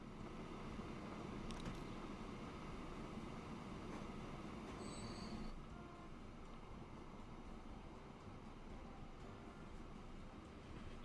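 A train rolls along steadily in the Transport Fever 2 railway game, giving a continuous rumble of wheels on track with a brief high squeal partway through, moderately loud and alone with no voices.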